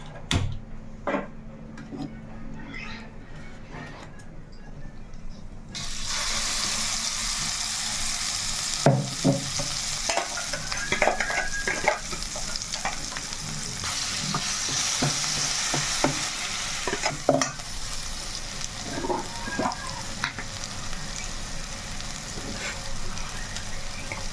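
An onion, tomato and green chili paste fries on a stove, a steady loud sizzle beginning after a few seconds of quieter handling, with repeated scraping stirs and clicks throughout.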